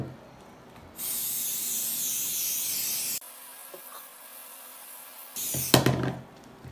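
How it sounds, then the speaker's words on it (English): An aerosol sneaker protector spray hisses onto a sneaker in one long steady burst, then a second shorter burst after a quiet pause, close and loud. "spray it down with this uh, sneaker protector right here"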